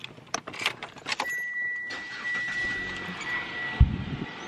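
Car engine being started in a hot place, opening with keys jangling and door or cabin clatter, then an ignition whine and a short engine catch near the end, fairly close and without talk.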